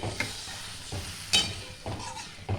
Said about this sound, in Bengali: আমি এখানে গরম জল দিচ্ছি, একটু বেশি করেই দিতে হবে।